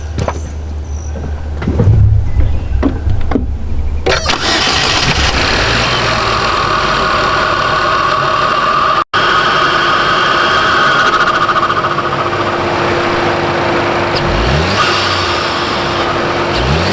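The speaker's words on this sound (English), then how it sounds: "I'm going to go in there and start the car" A starter cranks briefly before a car engine fitted with a ZZP high flow air intake catches and settles into a loud, steady idle with a low rumble and a few light revs.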